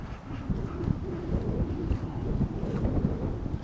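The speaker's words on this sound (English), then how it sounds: "the wind is dominant. So pay attention to the wind." Steady outdoor wind blows and buffets the microphone with a low, rumbling roar that rises and falls gently throughout, with no speech.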